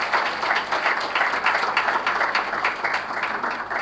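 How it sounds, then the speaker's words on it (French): An audience applauds the head of state at an award ceremony honouring people in the fight against high living costs, a steady wash of clapping held at an even level throughout. "Je voudrais qu'on puisse applaudir le chef de l'État."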